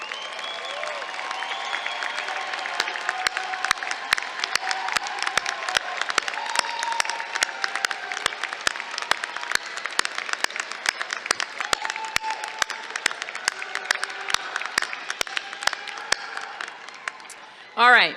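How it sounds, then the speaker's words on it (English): Sustained applause from a large audience at a doctoral graduation ceremony honoring the graduates' supporters, dense clapping that holds steady for well over a dozen seconds with crowd noise and some voices mixed in. "go ahead, stand up and give them a round of applause"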